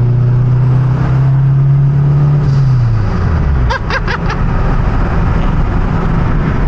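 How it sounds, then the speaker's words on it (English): A turbocharged Honda K24 car engine idles with a low drone, then rises in a short rev as the pitch climbs and falls, followed by a few quick throttle blips; no one speaks. "Let's listen to that turbo a little bit more."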